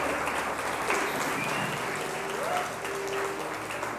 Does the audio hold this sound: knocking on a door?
no